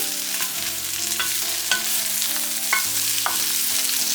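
Green beans and onions sautéing in a pan for a Tamil milk curry with potato, a steady close sizzle broken by a few scraping stirs, with a low musical tone running underneath and no talking.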